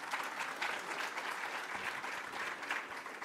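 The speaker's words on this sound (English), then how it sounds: "Advocate Gala, can I please request a round of applause?" An audience at a university founders lecture and gala dinner claps in steady, dense applause that holds at an even level throughout, with no voices over it.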